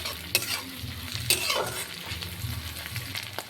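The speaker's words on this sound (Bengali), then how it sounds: "এই তেলের মধ্যে আমি দিয়ে দিব ধুয়ে রাখা শুকনা মাছ। শুকনা মাছটা আমি আরও 1-2 মিনিট ভেজে নিব।" Washed dried fish frying in hot oil in a pan for a kochur loti dish, giving a steady close sizzle with a few sharp spatula clinks and stirring scrapes.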